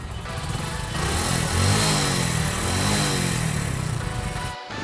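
A motorcycle engine hums steadily while riding, a continuous mid-pitched drone with slight rises and falls in revs and wind rush, fairly loud and close, with no voices.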